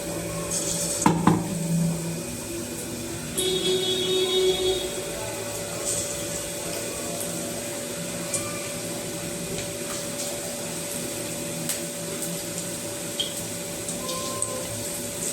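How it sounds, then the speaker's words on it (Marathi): Cauliflower florets for bhaji fry in hot oil with a continuous bubbling hiss, a brief clatter near the start as pieces go into the pan, then a steady sizzle throughout. "हे बघा आपलं तेल छान तापलेलं आहे आता त्यामध्ये आपण असं एक एक हे फ्लावरचं घ्यायचा गड्डा आणि तो तेलामध्ये"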